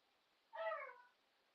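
A house cat gives one short meow indoors, fairly faint and slightly distant, rising then trailing off over about half a second against a quiet background.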